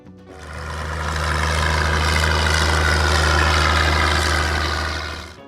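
A Minneapolis Moline G1000 farm tractor's diesel engine runs steadily with a deep, throbbing low rumble, close and loud, swelling in after a brief start and holding for several seconds.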